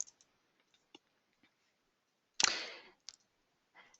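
A mouse or clicker clicks to move presentation slides forward in a quiet room, a few faint ticks and then one sharper, louder click with a brief rustle after it.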